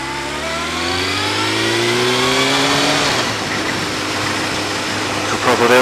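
A Honda Fireblade motorcycle engine revs hard in first gear, its pitch climbing steadily as it accelerates, loud and close with wind noise, then drops and changes tone near the end.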